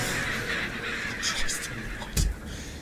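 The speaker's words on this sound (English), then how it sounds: "Goddamn birds! Scaring the shit out of me." Crows cawing in the horror game Gray Dawn, several harsh caws close by over an eerie ambient bed, followed by a sudden loud thump.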